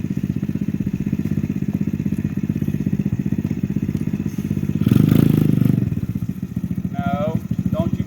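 A 125cc ATV quad fitted with a swapped Typhoon engine runs close by with a steady, rapid putter. The engine swells louder for about a second midway, then settles back to a pulsing drone.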